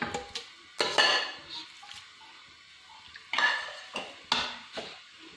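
Water and washed chicken mince going into a pan for chicken keema karahi: a series of metallic clanks and scrapes of utensils against the pot, several sharp knocks spaced out with quiet gaps, close and fairly loud.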